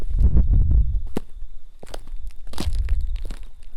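Footsteps walking on gravel in a raw outdoor field recording, a run of close, crunchy, irregular steps with loud low thumps and gritty scraping, faint crickets and wind behind.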